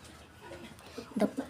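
Native country chickens at a Tamil village home give a few soft, close clucks toward the end, the loudest near the last quarter, after a quiet start.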